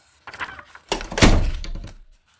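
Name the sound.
door being slowly closed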